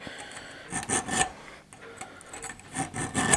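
An empty CO2 cartridge is hand-filed with steady, rhythmic rasping strokes, close and fairly loud, with a short pause partway through.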